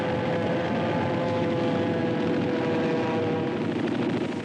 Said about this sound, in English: the U.S. ships offshore were attacked in a heavy air raid